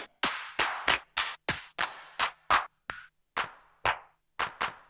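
Clap samples auditioned one after another on an Akai MPC One, about a dozen sharp, dry hits in an uneven stepping rhythm, each with a slightly different tone and decay, loud and close with nothing else playing.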